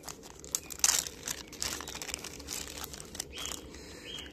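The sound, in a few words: small plastic bag of flashlight accessories being opened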